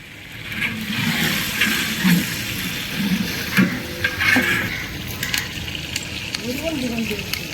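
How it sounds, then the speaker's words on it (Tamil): Spices and curry leaves sizzle and crackle steadily in hot oil, tempering for tamarind rice, a continuous loud frying hiss with occasional pops and a faint scrape of stirring. "இப்போ தாளிக்க ஆரம்பிச்சிட்டாரு"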